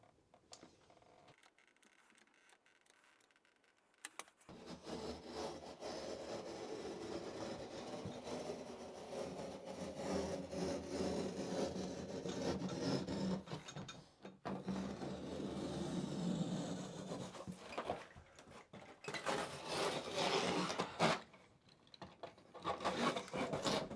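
Foam tile backer board (Hydro Blok) for a tub surround being cut, making a steady close-up rasping, scraping rub that runs for about twenty seconds with a few brief pauses near the end.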